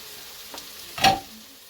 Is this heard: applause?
no